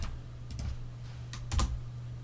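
A command is typed on a computer keyboard, heard as a few short clusters of crisp keystroke clicks over a low steady hum, close and moderately quiet.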